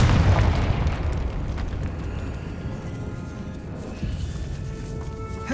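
Confringo spell blast in Hogwarts Legacy, set in a decayed catacomb: a loud booming explosion at the start that rumbles and crackles away into a long fading tail, with a smaller thump near the end.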